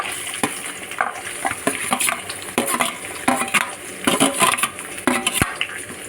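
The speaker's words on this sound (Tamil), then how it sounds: "இதை நல்லா வதக்கிக்கலாம்" Shallots and green chillies sauté in a hot pan for Chettinad mutton sukka, with steady frying sizzle and repeated stirring scrapes and clinks of a spoon against the pan, close and fairly loud.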